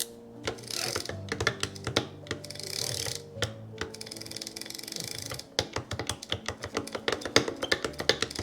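Penn International fishing reel being worked by hand, its gears and anti-reverse pawl giving off dense, rapid mechanical ratcheting and clicking in close, uneven bursts.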